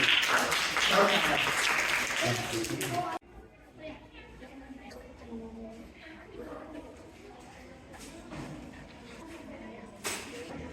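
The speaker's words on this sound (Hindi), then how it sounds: "एक बार जोरदार तालियां इस बच्ची के लिए।" An audience at a school language-festival competition claps for a girl student, a dense burst of applause for about three seconds that then cuts to quieter room sound and talking.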